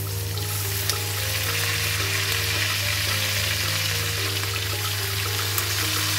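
Garlic and Filipino shrimp paste (alamang) sautéing in a pan for ginisang alamang with pork, a loud continuous sizzle and crackle of frying close by, with a faint steady hum beneath.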